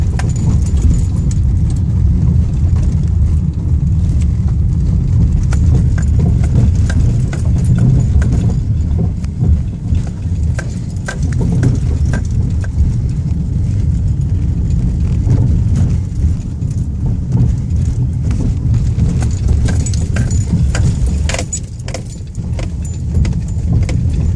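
A car rattles and jangles continuously while driving along a badly damaged, potholed road near Hrabrovo, Bulgaria, with a loud low rumble of tyres and chassis and constant loose metallic clatter throughout.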